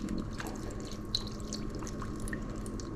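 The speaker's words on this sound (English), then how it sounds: "I'm going to add some water" Water pours and drips steadily into a roasting tray of pork, a continuous trickling splash with small droplet plinks, close and even throughout.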